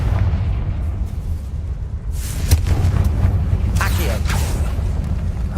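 The Confringo blast spell in Hogwarts Legacy goes off with a booming, crackling burst after about two seconds and rumbles on over steady low game noise, while faint speech sits underneath.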